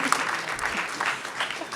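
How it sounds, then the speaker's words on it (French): Applause from an audience at a French community town-gathering event with pitches, a steady burst of clapping that lasts throughout at moderate loudness. "On peut l'applaudir."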